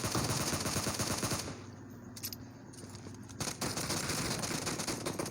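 Rapid automatic gunfire from a PUBG Mobile match rattles loudly at the start, drops to a quieter stretch with faint clicks, then bursts again near the end, with no talking.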